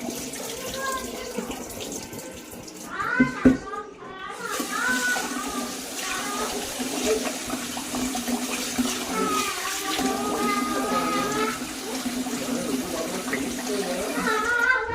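Water sloshes and splashes continuously as finger millet grain is stirred and rinsed by hand, with people talking over it.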